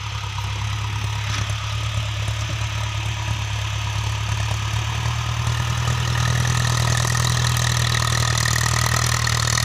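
A Ford 6610 farm tractor pushing a pile of soil: its diesel engine runs with a loud, steady low throb and rattle that grows somewhat heavier partway through, as if under more load, with no speech.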